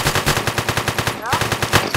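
Video game gunfire, a rapid burst of automatic shots in a quick even rhythm, loud and close, with a short pause midway before the firing resumes.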